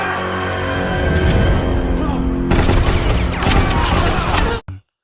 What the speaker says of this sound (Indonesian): pasukan Sing menodongkan senapan dan membunuh semua prajurit Joseon